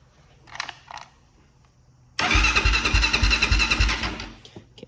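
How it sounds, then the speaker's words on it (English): A Honda 400ex ATV engine cranks and catches abruptly after a couple of brief mechanical clicks, then idles loud and close with a fast, rough, pulsing beat before cutting back down. "we're gonna start the bike and then check it once it's warm"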